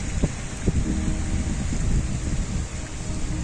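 Wind blows steadily by the water as a broad rushing noise buffeting the microphone, with a few low thumps and no voices.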